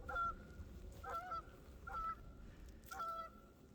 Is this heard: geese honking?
yes